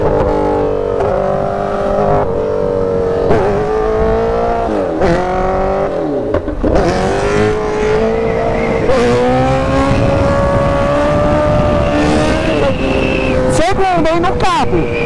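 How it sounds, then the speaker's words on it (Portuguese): A motorcycle climbs a steep neighbourhood street in second gear, its engine droning loud and close with rising and falling pitch as the throttle is worked, ending in a sharp rev. "eu puxei de segunda só no cabo. Nossa, sobe muito fácil a moto"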